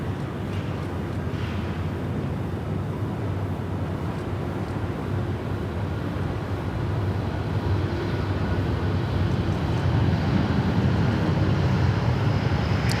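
A Thai Airways airliner departs Sydney Airport for Bangkok, its jet engines producing a loud, broad, steady roar that builds slightly toward the end, heard outdoors from a distance with wind noise.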